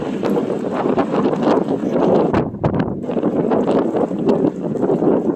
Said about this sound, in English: it's very windy and very cold